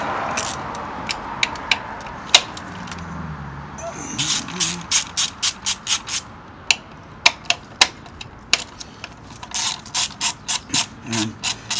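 A ratchet wrench undoes a 10 mm bolt on a 2013 Hyundai Sonata GLS 2.4L engine during spark plug work, giving bursts of sharp rapid clicks close up, with pauses and someone talking faintly in between.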